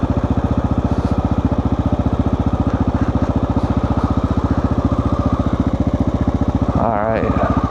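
Motorcycle with a loud aftermarket exhaust riding on a muddy trail, its engine firing in a steady rapid pulse close to the microphone throughout, with a brief rev change near the end.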